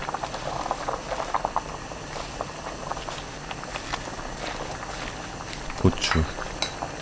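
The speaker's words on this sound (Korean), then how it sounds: "파 넣고 끓입니다" Lettuce doenjang soup boils in a pot, a steady soft bubbling and patter held close, with a few faint clinks and a brief knock of utensils near the end.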